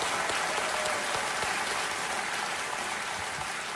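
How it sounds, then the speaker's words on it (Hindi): A studio audience on the Indian game show Kaun Banega Crorepati claps loudly and continuously, a thick, unbroken roar of applause with no speech over it. "तालियां बजती रहें जोरदार"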